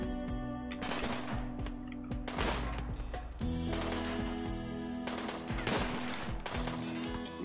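A turret in the video game RimWorld firing in repeated rapid bursts, loud and clipped, with short breaks between volleys over a steady game background hum.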